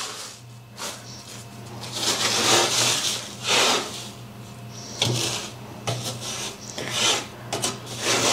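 Dried milk is scraped and loosened from a tray in irregular bursts of close, raspy scraping and rubbing, separated by short pauses, with no talking.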